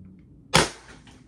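One sharp pop from a paintball pistol fired close by, a short crack with a brief trailing decay and quiet surroundings.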